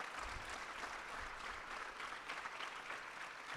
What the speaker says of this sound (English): So why don't we give both our panelists a big round of applause?